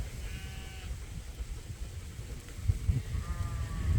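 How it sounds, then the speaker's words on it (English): Sheep bleat a couple of times at a distance over low rumbling outdoor background noise as they head out to graze in a field. "as the sheep head out for a nice cool grazing in the field"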